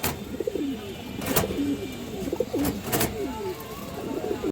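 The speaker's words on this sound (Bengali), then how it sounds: "খুব সুন্দর এক প্যার জিরো গলা কবুতর" Pigeons at a farm coo in repeated soft, rolling low calls, several birds overlapping at close range, with a couple of brief sharp noises cutting in.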